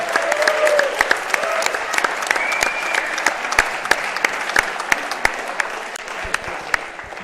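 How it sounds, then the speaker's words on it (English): A squash crowd at an evening league match in an Amsterdam stadium applauds for several seconds, a dense run of claps with a few sharper ones standing out. No one speaks over it. "big round of applause for Bart and Stan"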